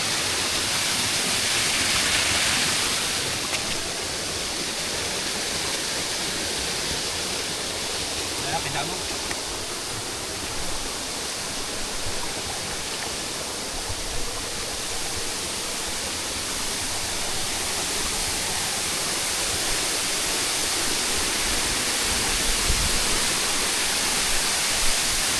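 Altar Falls waterfall on Mt. Mayapay pours in a loud, constant broadband rush close by, steady throughout with no breaks.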